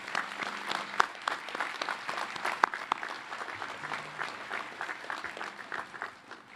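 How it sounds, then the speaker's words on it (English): Applause from a commencement audience, a broad sustained wash of clapping across a large crowd, moderately distant, with a few sharper nearby claps standing out. "give a round of applause to those that helped you"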